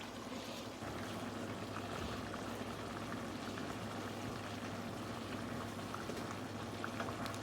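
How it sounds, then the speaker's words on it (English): Pot of smothered red potatoes with smoked sausage and bacon simmering on the stove, a steady low bubbling and hiss that runs evenly throughout with no voices. "just letting it simmer down"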